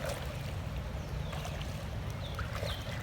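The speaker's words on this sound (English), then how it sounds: "Here's another back paddle." A kayak paddle drawn backward through the water in a back paddle stroke, producing a soft swish and gurgle over steady low water noise, close and faint.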